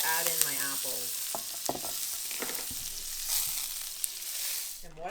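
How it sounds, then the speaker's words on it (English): Apples sizzling in browned butter in a pan, a steady close sizzle broken by clinks and scrapes of stirring, with a bright tonal ring near the start. "I'm going to add in my apples."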